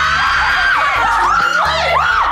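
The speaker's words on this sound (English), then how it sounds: "What a scream!" Several people scream loudly in fright inside a temple-themed escape room, overlapping high, wavering shrieks that rise and fall for a couple of seconds, close and intense.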